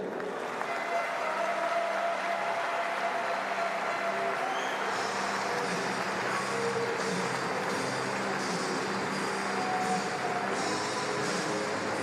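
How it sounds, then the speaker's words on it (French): An audience applauds referees and partners at a Cesta Punta match, a sustained, even wash of clapping heard from a distance in a large venue, with no voices over it. "Merci de les accueillir et de les applaudir."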